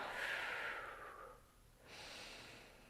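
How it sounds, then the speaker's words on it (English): A deep breath is drawn in and then let out during a gentle yoga flow: a long, airy inhale followed after a short pause by a softer exhale, close and fairly quiet. "Take a big breath in and out."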